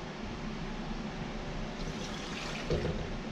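Cold water pours into a blender jar holding raw liver, a steady splashing wash of sound with a brief louder gurgle near the end.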